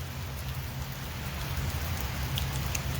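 Hurricane downpour roars in a thick, unbroken wash of rain striking surfaces nearby, steady and loud throughout with no talking.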